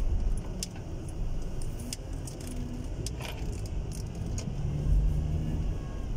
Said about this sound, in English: I just literally take you for a little drive around the area.